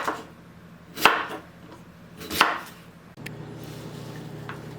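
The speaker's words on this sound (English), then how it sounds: "I'm done cutting all of the cassava." A knife cuts through raw cassava root in a home kitchen, giving two sharp, close chopping strikes about a second apart, followed by a steady low background hum.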